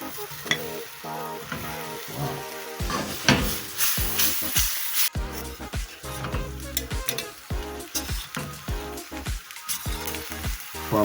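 Prawns sizzling loudly in a hot pan with garlic and chilies, sharp bursts of frying hiss broken by repeated clatter and scrape as they are stirred, no voices.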